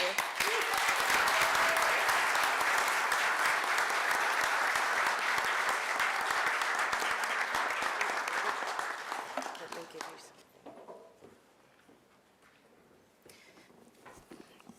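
A large commencement audience applauds the keynote speaker at the Generations College class of 2023 ceremony, loud sustained clapping for about ten seconds before it thins out and fades to a few scattered claps.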